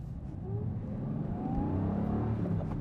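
Engine of a manual 2020 Aston Martin Vantage AMR accelerating through the gears, a steady loud drone from inside the car with rising engine tones that climb, drop at a shift and climb again, with no voices.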